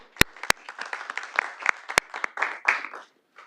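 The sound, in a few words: applause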